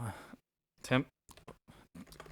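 Computer keyboard keys clatter in a few quick, separate bursts with short silent gaps between them, close and moderately loud.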